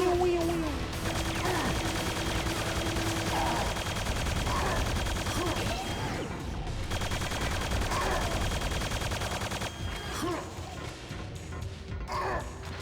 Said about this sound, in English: who the fuck is shooting everywhere, no matter where I go?